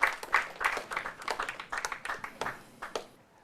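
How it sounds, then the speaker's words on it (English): An audience at a Law Challenge 2023 contest between the University of Ghana and GIMPA law faculties claps for the GIMPA Faculty of Law. The clapping is sparse and uneven, a modest burst that thins out and fades within a few seconds. "Please, a round of applause for them."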